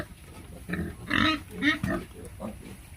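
Pigs grunting in a backyard piggery, several close, short grunts in quick succession with some talk mixed in.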